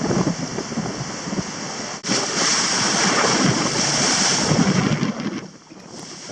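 Sailboat under reefed genoa, reefed mainsail and full staysail making about 8 knots off western Fiji, with steady rushing waves, hull wash and wind buffeting the microphone, loud and continuous.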